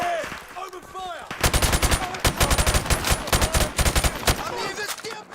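Rapid automatic gunfire from Call of Duty Modern Warfare Remastered erupts after a quieter opening with chirpy effects, loud dense bursts continuing steadily with brief gaps to the end.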